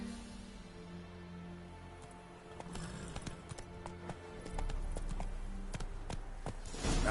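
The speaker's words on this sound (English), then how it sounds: "Whoa there, Roach." Hooves of a horse in The Witcher 3 video game clip-clop in a quickening rhythm, moderately close and growing louder toward the end, with no talking.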